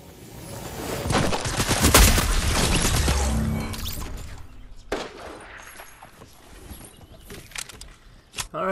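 Rapid SMG fire in the video game Fortnite, a loud dense volley of shots with crashing impacts early, then scattered bursts trailing off, with no talk.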